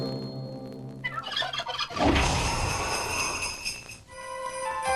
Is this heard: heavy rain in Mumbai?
no